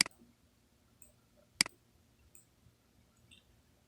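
A computer mouse clicks twice, sharp and close, while pressing OK in Photoshop, with small faint ticks in between and a quiet background hum and no talking.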